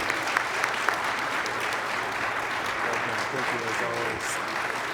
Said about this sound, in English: Go ahead and keep clapping for Alderwoman Stephanie Coleman.